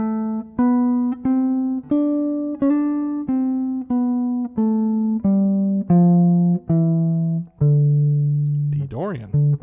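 An instrument plays a D Dorian scale, about a dozen clean, evenly spaced sustained notes stepping through the mode, followed by a brief wavering, sliding tone at the end.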